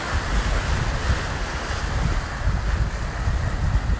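Surf breaks steadily on a windy Key West beach, a continuous loud wash of waves with heavy wind rumble buffeting the microphone, no voices.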